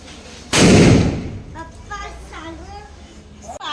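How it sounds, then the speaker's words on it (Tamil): A sudden loud bang like a firecracker going off nearby, followed by children's excited voices chattering. "வெடி வெடி வெடி."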